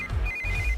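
A phone ringtone chirps in a steady repeating electronic pattern for under a second, fairly clear over a low rumbling background with no talking.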